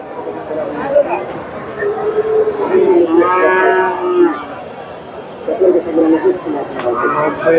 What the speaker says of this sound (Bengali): ষাঁড় গরু